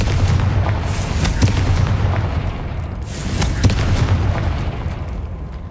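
The Confringo fire spell in the game Hogwarts Legacy sets off a loud, sustained roar of booming blasts, with heavy rumbling and a few sharper cracks punching through, and no talking.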